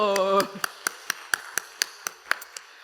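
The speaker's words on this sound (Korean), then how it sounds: "같이 박수 쳐주셔야죠" A church congregation at a Sunday afternoon service claps together in a steady, evenly spaced beat of about ten crisp claps. A brief voice is heard at the start.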